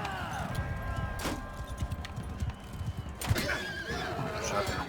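Horses whinny and neigh in a medieval battle in Mount & Blade II Bannerlord, two loud calls over clip-clopping hooves and scattered clatter, with a voice talking underneath.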